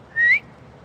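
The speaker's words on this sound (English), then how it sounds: "I can whistle." A person whistles a single short rising note, clear and close, alone against a quiet background.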